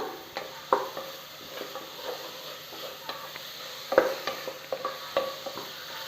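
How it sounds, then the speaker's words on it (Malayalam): Crushed ginger and garlic sautéed in a pan for mutton curry, a low sizzle under intermittent spatula scrapes and taps, close by with sharper knocks now and then and no voices. "ജിഞ്ചർ ഗാർലിക്, ഇത് നല്ലതുപോലെ വഴറ്റിയെടുക്കാം."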